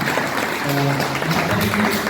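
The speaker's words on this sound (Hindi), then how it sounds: "एक बार जोरदार तालियां आना चाहिए सर के लिए" An audience at a drama and theatre department talk claps steadily for a guest professor, a brief, even wash of close applause with no pauses.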